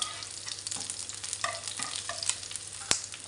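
Garlic and shallots frying in a pan, a soft steady sizzle broken by faint scraping stirs and one sharper clink of the utensil, heard alone.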